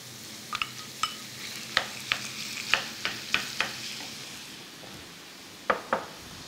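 Chicken breast cut into small cubes frying with onion in a pan, with steady sizzling underneath and a dozen sharp stirring clinks and scrapes of a utensil against the pan spaced irregularly throughout, no talking.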